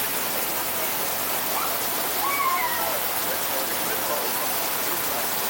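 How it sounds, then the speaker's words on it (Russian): A waterfall in a tropical park in Israel gives a steady, even rush of falling water, moderately quiet and continuous throughout, with no clear voices over it. "Такой водопад."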